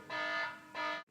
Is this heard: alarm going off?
yes